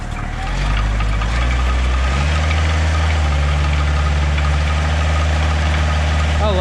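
A Kubota tractor fitted with a Bradco 625 backhoe runs close by with a loud, steady diesel rumble that shifts pitch early on, as if the revs change, then holds a constant drone.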